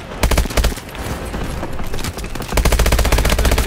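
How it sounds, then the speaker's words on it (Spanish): Rapid bursts of automatic gunfire from the Call of Duty Advanced Warfare video game, loud and dense, pausing briefly before heavy volleys resume near the end. "¿Tú has visto la de disparos que hay por allí, tío?"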